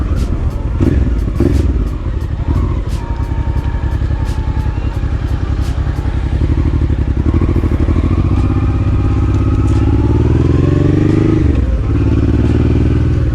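Honda XL650V Transalp motorcycle engine running up close with a dB killer fitted in the exhaust, a loud steady chugging idle that rises with a couple of revs near the end, with clatter and knocks around it.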